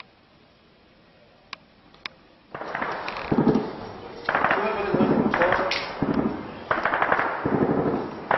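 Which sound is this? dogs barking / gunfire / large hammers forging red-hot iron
gunfire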